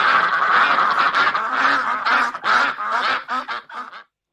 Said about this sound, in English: What's quacking here?